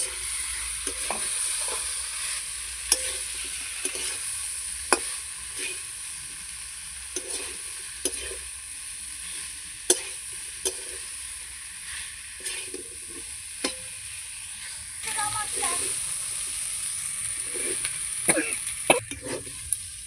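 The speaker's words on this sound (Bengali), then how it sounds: "সিদ্ধ করে রাখা ডাঁটাটা দিয়ে দিলাম।" Boiled drumstick (sajna) stems being stir-fried in a pan with tomato paste, giving a steady soft sizzle broken by regular scraping and stirring clicks from a spoon, alone and close by.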